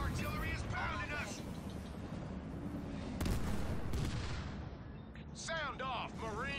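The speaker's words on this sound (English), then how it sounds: "Enemy artillery is pounding us!" Booming artillery fire in the real-time strategy game Halo Wars 2, a steady rumble of heavy blasts and gunfire with one sharp loud impact, under game voice lines and chatter.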